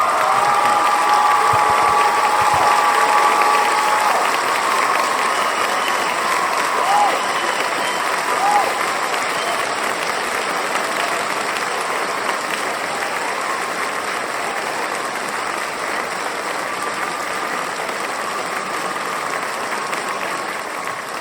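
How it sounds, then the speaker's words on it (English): A lecture audience applauds a speaker with sustained, dense clapping that fades slowly over about twenty seconds, with a little cheering and murmuring mixed in. "A round of applause for Graham Hancock"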